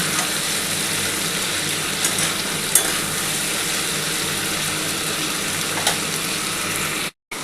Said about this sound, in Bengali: আলু আর বরবটিটা মোটামুটি ভাজা হয়ে এসছে।